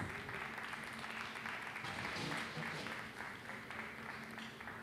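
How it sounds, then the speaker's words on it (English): At a glassblowing demonstration, an audience gives a faint, steady round of applause that continues evenly throughout. "Let's give them a nice round of applause."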